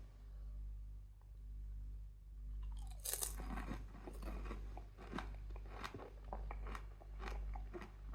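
A dried Gator Jigsaw purple chilli pepper is bitten and chewed close up, giving sharp brittle crunches in an irregular run over a low steady background hum, with no talking.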